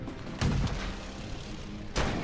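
Two heavy cannon blasts from a Patton-style tank in a tank battle game, each a sharp booming hit followed by a short rumbling tail, spaced about a second and a half apart over steady background noise.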